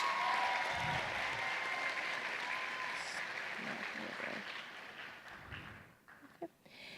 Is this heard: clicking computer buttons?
no